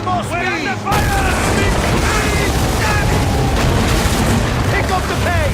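Loud, continuous battle din of cannon fire and explosions from Assassin's Creed Origins, with heavy low booms rolling through dense noise while shouting voices call out over the top.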